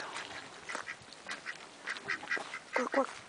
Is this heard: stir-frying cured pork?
no